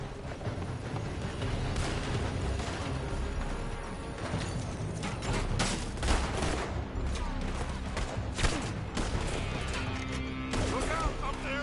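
A dense, continuous firefight from a building in the video game Red Dead Redemption II, with rapid shots, cracks and clatter piling up under a constant battle din, while voices talk over it.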